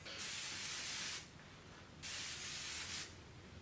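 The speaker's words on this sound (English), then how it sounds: "I'm going to be taking this Morphe Life Proof Spray." Morphe Life Proof setting spray misted in two long bursts, each about a second, with a short pause between; close, steady hissing sprays with no talk.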